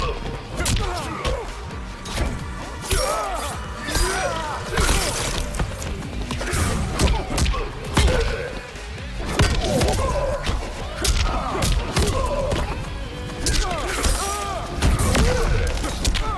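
Fighting in the video game Mortal Kombat 11 fills the clip with dense, loud blows, thuds, whooshes and crashing impacts that go on almost without pause, mixed with grunts and effects.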